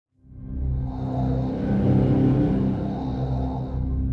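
Synthesizer drone pad swelling in from silence under the mod wheel, a dark, sustained tonal rumble with a creepy undertone that rises quickly and then holds loud and steady.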